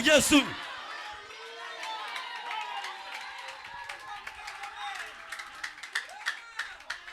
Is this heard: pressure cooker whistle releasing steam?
no